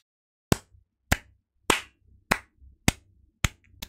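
Seven sharp, separate hand claps, evenly spaced about half a second apart, close by and alone in an otherwise quiet room.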